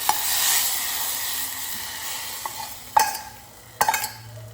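Pepper, cumin, garlic, ginger and mustard seeds temper in hot ghee for pongal, a steady sizzle that fades, followed by a few sharp spoon clinks and stirring scrapes against the pan, close and alone.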